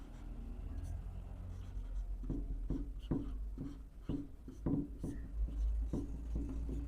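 Handwriting during a tenth-grade real numbers maths lesson, a series of soft scratchy pen or chalk strokes in an uneven rhythm over a low background hum.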